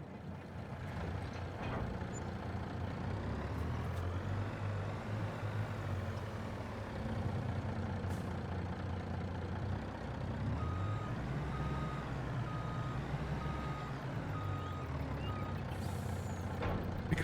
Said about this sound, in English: I think we'll run down with the truck